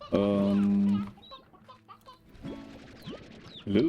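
A Roostro chicken in Slime Rancher gives a loud, close cluck at the start, followed by softer scattered clucks and chirps, then another burst of clucking at the end.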